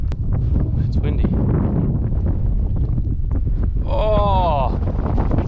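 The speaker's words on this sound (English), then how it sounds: "It's windy." Wind buffets the microphone on a small fishing boat out on the Exmouth Gulf, a steady rushing roar throughout, with someone talking over it and a brief squeaky whistling tone near the end.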